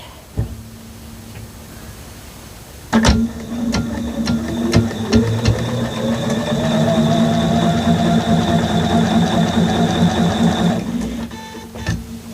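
A sewing machine stitches a quilt block seam, a loud continuous whirring run starting after a few seconds of quiet handling and lasting about nine seconds before stopping.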